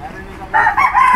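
A brief, loud rooster crow rises sharply and holds with a strained, wavering tone, close by.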